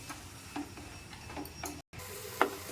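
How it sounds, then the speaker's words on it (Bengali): Ground spice masala frying in oil, with a quiet sizzle and several light, evenly spaced stirring scrapes and taps against the pan. "এবার সমস্ত গুঁড়ো মশলা দিয়ে আমি মশলাটাকে ভালো করে 4 থেকে 5 মিনিট কষিয়ে নেব"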